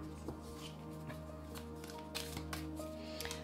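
Tarot cards shuffled by hand ahead of a draw, a steady papery riffling with a few sharper slaps, close and continuous over a faint background hum.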